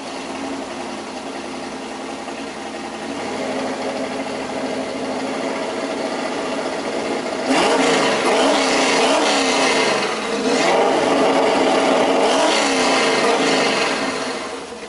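A Corvette engine running again after sitting for seven years idles steadily, then partway through it is revved, rising and falling in several climbing surges that grow louder and rougher, heard up close with no talk.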